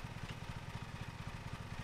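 Engine of a lawn mower in the Lawn Mowing Simulator game running steadily at a low, pulsing idle-like putter, faint and continuous throughout, alone without talk.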